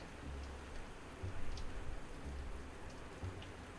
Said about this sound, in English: It's a bit of rain, but won't last for long.